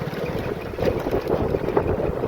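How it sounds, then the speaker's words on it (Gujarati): Steady low rumbling wind buffeting the microphone on a rough road to the sea on the Gujarat coast, a continuous blustery roar with no talking. "પવન પણ આવે છે એટલે બહુ વધારે મારો અવાજ નહીં આવતો હોય"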